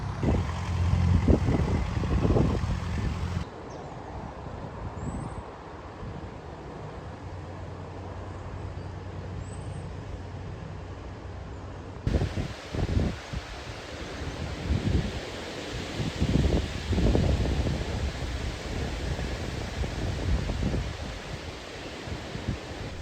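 Gusty wind buffets the microphone beside a canal near Braunston after a day of rain, a steady roaring rush with louder swells and a brief quieter stretch, no voices.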